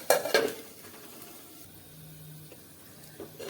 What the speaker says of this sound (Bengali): একটু লাড়াচাড়া কইরা দেই, লাড়াচাড়া কইরা দিয়ে আবারও ডাইকা দিমু।